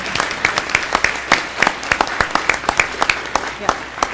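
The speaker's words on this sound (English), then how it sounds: "one more round of applause for all of them that are here" A school board meeting audience gives students a round of applause, a steady stream of sharp individual claps from a modest crowd in a room, loud and close, with no talk over it.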